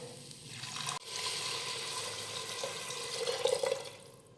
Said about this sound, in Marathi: आता घालूयात पाणी